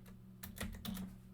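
Quick bursts of typing on a computer keyboard, a few close clustered keystrokes over a low steady hum, with no talk.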